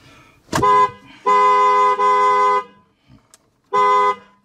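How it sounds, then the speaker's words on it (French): Horn of a Tesla car sounding three times: a short blast, a longer held honk with a brief dip, then another honk after a pause, loud and close in an otherwise quiet setting. "Un coup de klaxon."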